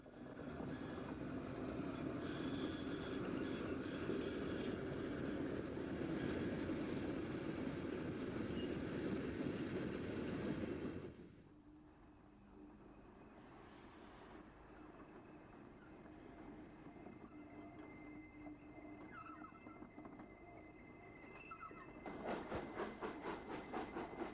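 LNER A3 4472 Flying Scotsman, a steam locomotive, reverses past Sheffield East No. 4 signal box at Retford to take out a special in the 1960s: a loud steady chuffing rumble with steam hiss for about eleven seconds, then a quieter lull before the noise returns.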